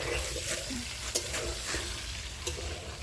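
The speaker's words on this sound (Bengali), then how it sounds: "আলু ভাজা হচ্ছে" Potatoes fry in a pan with a steady, close sizzle and occasional crackles and sharp pops, a continuous hiss that holds for the full few seconds.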